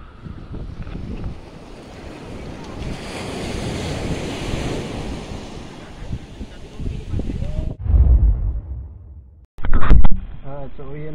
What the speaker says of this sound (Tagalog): ang laki ng mga alon dito